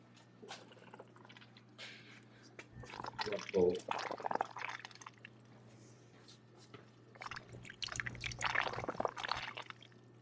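A pump pushes water through aquaponic plant beds, producing trickling, splashing flow with a steady low hum beneath, while people talk intermittently over it.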